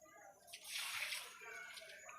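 Water pours and splashes onto garden plants such as banana and papaya, starting soft and then swelling into a steady gush that lasts to the end, faint overall and heard up close.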